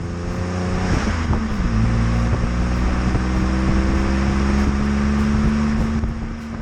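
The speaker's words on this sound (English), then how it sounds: "If you like the Twinair sound, the FireFly makes a similar noise." Fiat 500C Hybrid with the 70 horsepower FireFly mild hybrid engine drones steadily while driving, a raspy, throaty hum blended with road and wind noise, loud and continuous with no talking.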